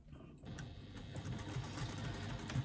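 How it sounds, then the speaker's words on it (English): A sewing machine stitches a pouch seam at a 3/8-inch allowance, starting after a brief pause into a steady, fast mechanical whir with rhythmic needle clatter, close and continuous. "And then I'm just going to stitch across there again 3/8 of an inch seam allowance."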